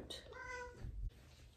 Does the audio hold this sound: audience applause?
no